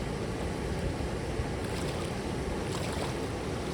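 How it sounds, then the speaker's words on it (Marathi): Fast-flowing tidal creek water rushes in a dense, steady broadband wash, loud and close with no voices, at a creek where people are fishing in the rain. "पाणी पण एकदम सुसाट आहे."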